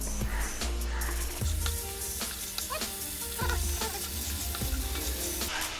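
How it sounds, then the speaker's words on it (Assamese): Spices and kabuli chickpeas fry in oil in a pan over high flame for a chole paneer dish, a dense continuous sizzle with repeated spatula scrapes and stirring clatter close by. "ভাজিম এখিনি মই এটা হাই ফ্লেমতে কৰি আছো"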